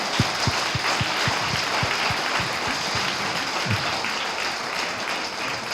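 Audience applause at an award ceremony honouring a woman of the year, a steady wash of many hands clapping throughout, with a few lower thumps in the first seconds.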